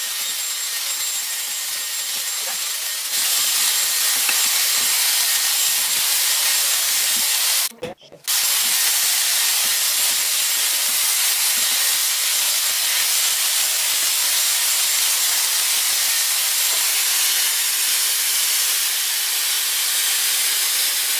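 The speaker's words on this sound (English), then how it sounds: "get to blow dry." A Dyson Air Wrap blow-dries hair with a steady, close, loud airflow roar that runs continuously, briefly cut off for a moment partway through before resuming.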